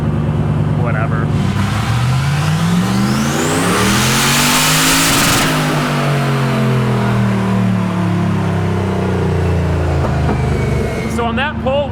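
Turbocharged LS6 V8 in a Volvo sleeper running about 9 pounds of boost on a dyno, loudly revving up through a long pull to a peak then winding down, with voices around it.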